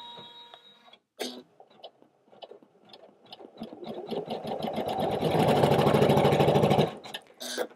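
A Janome 500E embroidery machine stitches through white stabilizer, starting with scattered clicks and building to a steady, fast, buzzing mechanical whir that then stops, with a few clicks after.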